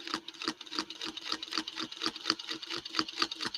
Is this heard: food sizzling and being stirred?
no